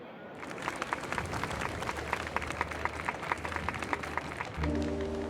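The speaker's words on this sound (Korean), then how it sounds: "화합 사업을 위해 사심없이 공헌해주신 알팔파 가문 가주 오티 알팔파 씨에게도 감사의 뜻으로 힘찬 박수를 보내주세요" A crowd claps in gratitude at a festival in Honkai: Star Rail, moderate applause with distinct individual claps rising above the wash before a low musical tone enters near the end.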